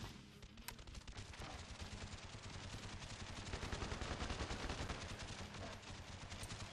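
Rapid gunfire in the video game Call of Duty Black Ops Declassified, a continuous run of dense automatic shots at low level with no speech.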